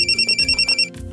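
A phone rings with a rapid series of about nine short electronic trilling pulses, clear and close, before breaking off.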